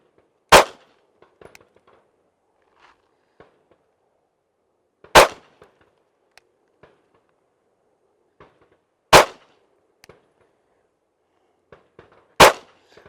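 Four sharp handgun shots ring out on a live-fire range, evenly spaced about four seconds apart, each loud and close with a quick decay, separated by near silence and faint small clicks.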